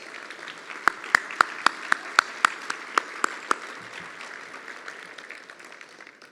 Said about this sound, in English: another round of applause for Governor John Carney